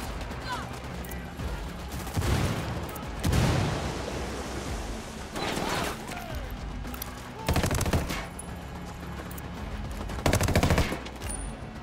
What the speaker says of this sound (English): That was some good shooting.